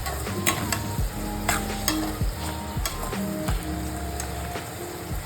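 Chopped onions fry with a little salt while being stirred toward golden brown for a Maharashtrian vatana matki curry, with steady sizzling and repeated rhythmic scrapes and clicks of a spatula against the pan, close by.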